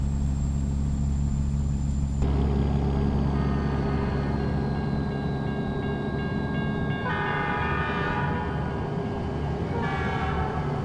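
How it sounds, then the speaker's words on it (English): A freight train rumbles past in American Truck Simulator near a railroad crossing, with a steady low roll of wagons and several sustained horn blasts in the second half, loud and close. "a random train can be going by underneath you with a railroad crossing bell going off"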